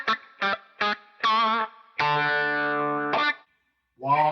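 Electric guitar played through the touch wah setting of a NUX MG-101 budget multi-effects unit: several short plucked notes, then a long sustained note whose tone sweeps and shifts, a brief gap and a final note.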